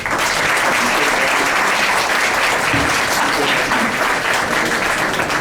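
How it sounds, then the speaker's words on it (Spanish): A conference audience gives loud, sustained applause, with a dense steady roar of many hands clapping that never lets up. "Demos un fuerte aplauso"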